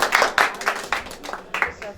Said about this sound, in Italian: Bravo, un applauso.